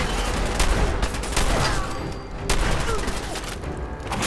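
Rapid gunfire from a firefight in the video game Fallout 4, with dense repeated shots and booms. Someone talks over the shooting.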